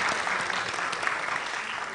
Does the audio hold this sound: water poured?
no